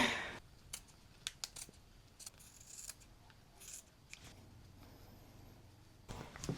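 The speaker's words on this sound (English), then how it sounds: "now I realized I have to cut out a window here" Scissors cutting a window out of paper for a handmade journal, with a series of sharp, close snips at an irregular rhythm and quiet paper rustling in between.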